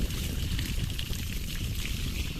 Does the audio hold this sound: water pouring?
yes